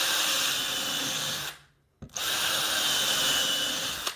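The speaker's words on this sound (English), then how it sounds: "I'm gonna make a bunch of holes in this waist area so it's easier to chisel out." Power drill boring holes into wood for a dovetail joint, a steady loud whirring grind that cuts out briefly midway, then resumes at full strength until the end.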